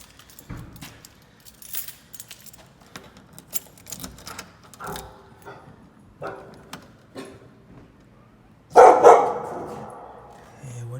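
Indoors, scattered light clicks and jingling come before a dog lets out a sudden loud bark close by, which trails off into a brief noisy tail.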